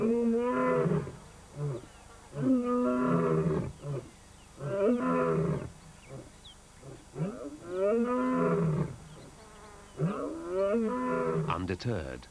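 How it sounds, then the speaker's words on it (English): Male lions of a pride roar at Pride Rock, a long series of deep, rhythmic grunting roars, loud and close, repeating in bursts over about twelve seconds. "At Pride Rock, the Pride males roar to proclaim their ownership of the territory."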